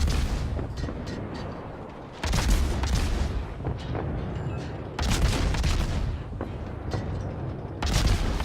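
Rapid naval gunfire from the destroyer Gearing in a warship video game: a dense, continuous roar of booming shots, with heavier salvos returning roughly every three seconds, loud and without talk.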